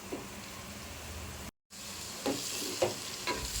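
Ground tomato sautés in oil for katla fish curry, a soft steady sizzle with a brief gap and a few scraping stirs near the end.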